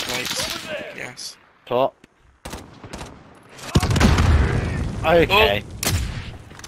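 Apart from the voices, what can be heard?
gunfire in the video game Call of Duty Warzone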